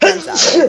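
A single loud sneeze lands close to the microphone during a casual podcast chat, bursting out sharply and trailing into a brief voiced tail.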